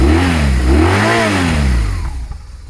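A cold motorcycle engine revs up and down in surging bursts, loud and close, then settles back toward a lower idle.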